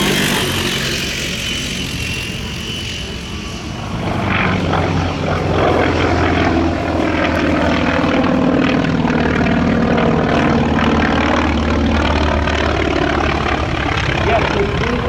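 A propeller aircraft flying at the Geneseo, New York 2025 airshow, its engine drone steady and loud throughout with a rising, shifting pitch, while a voice talks over it.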